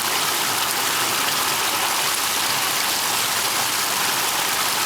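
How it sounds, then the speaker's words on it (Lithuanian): Water drains out of a Kollers water-massage bathtub, producing a loud, steady rushing gush that continues unbroken, close by and with no talk. "Galim pabandyti truputį išleisti vandenį."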